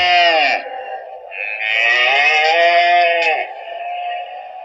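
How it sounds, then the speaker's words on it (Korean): A mother cow and her calves brought out for sale at a cattle market, with loud, close, drawn-out moos and bleat-like calls in overlapping bursts, one after another, with no talking. "송아지를 돌보는 어미 소."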